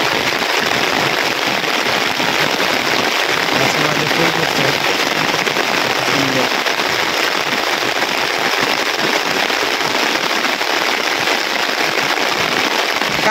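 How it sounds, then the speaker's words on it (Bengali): A heavy downpour of rain at a rural home makes a loud, dense, continuous hiss and crackling patter. It runs unbroken for the whole stretch. "প্রচুর বৃষ্টি আসছে।"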